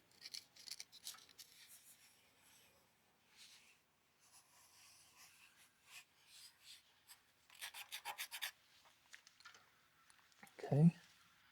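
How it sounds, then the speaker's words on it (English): A hand scraper works crust off the head gasket surface of a Kohler V-Twin Courage engine in short, quiet rasping strokes with pauses between them, ending in a brief louder knock. "We're just gently going to scrape this crust off"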